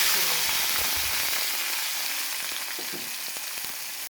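Onion, chili and garlic sizzle loudly in hot oil in a very hot wok, a dense, continuous crackling fry that stays steady and fades slightly toward the end.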